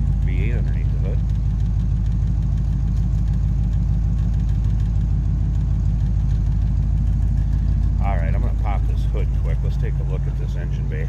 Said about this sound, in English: It is, like I said, smooth running V8 underneath the hood.